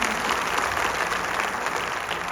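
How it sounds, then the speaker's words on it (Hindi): An audience at a direct selling industry event gives loud, dense, continuous applause, steady throughout the short moment with no voices above it. "तो इन दोनों के लिए भी मैं एक बार जोरदार तालियां चाहता हूं।"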